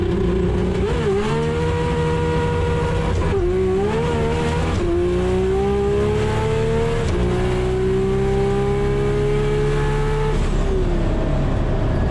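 A 1100-horsepower six-cylinder drag car with an H-pattern dogbox roars loudly and continuously, its engine pitch climbing through each gear then dropping sharply at every shift, several times in succession.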